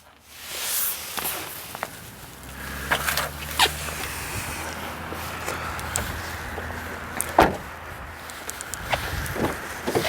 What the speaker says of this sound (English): As we open up the front door here